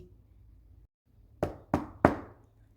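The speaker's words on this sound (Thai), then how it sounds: "เสียงเคาะประตูดังขึ้น" Three firm knocks on a wooden door, evenly spaced and close, following a moment of quiet in a narrated Thai folk tale.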